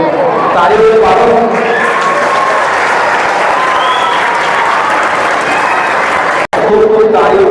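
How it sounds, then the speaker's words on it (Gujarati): Sustained applause from an audience at a notebook distribution event for schoolchildren, steady dense clapping throughout with a brief break near the end before the clapping resumes. "તાળીઓ પાડો।"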